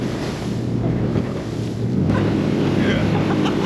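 A motorboat planes across the sea near a shark-infested island, its engine drone mixed with rushing water, wave slap and heavy wind buffeting the microphone, and a voice speaks over it.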